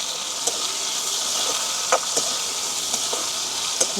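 Onions and green chillies frying in a pan, a steady close sizzle with scattered scraping knocks as they are stirred, no voices.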